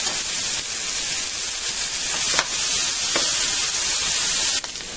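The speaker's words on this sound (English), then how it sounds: "I'm going to fry up 1 pound of ground beef" Ground beef and sausage fry in a pan for spaghetti bolognese, a loud, steady close-up sizzle and hiss without pause, with a couple of faint clicks and scrapes.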